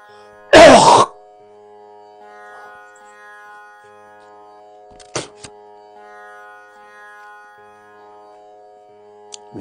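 A man with a cold gives one loud, harsh cough near the start, then a short throat-clearing sound midway, both close to the microphone over a faint, steady background tone.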